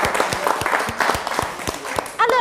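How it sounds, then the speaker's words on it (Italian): A quiz-show audience applauds a team, a few distinct claps and patters mixed under a talking host, ending with a louder spoken burst. "invece un bel applauso"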